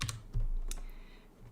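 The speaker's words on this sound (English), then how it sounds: "this is where you would type the content out" Keys on a computer keyboard clack in a short burst, a few quick close taps followed by quieter ones, with no talking.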